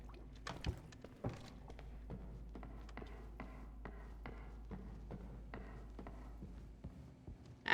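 Soapy water pours and splashes into a bucket in the game Crime Scene Cleaner, a steady liquid rush broken by a few hollow knocks and taps, close and fairly quiet with no talking.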